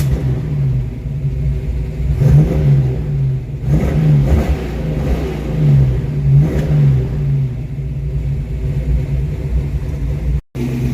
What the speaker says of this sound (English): It's been running for about 30 minutes and we can rev it up.